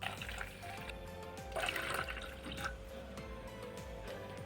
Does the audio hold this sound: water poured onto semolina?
yes